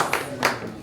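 Brief burst of clapping from a group at an office meeting, a short patter of applause lasting under a second at moderate loudness.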